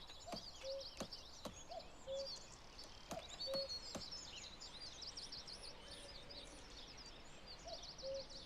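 Bird calls repeat in a video game's looping ambience, short chirps and tweets recurring among sharp clicks over a quiet background, fairly faint and continuous.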